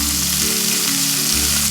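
Three chopped onions fry in hot oil in a pan with finely chopped ginger for a Tamil evening snack, producing a loud, steady, close sizzle throughout.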